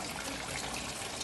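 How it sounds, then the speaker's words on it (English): Water trickles and splashes steadily in an outdoor highland setting in Minahasa, a close, continuous wash of liquid noise with no voices. "It's just water."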